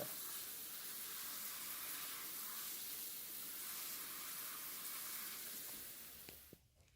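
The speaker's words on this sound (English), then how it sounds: "Let's go and give them a quick little wash and see if they bead" Water sprays steadily in a continuous hiss over freshly painted exterior plastic car trim during a wash, faint and unbroken, then cuts off just before the end.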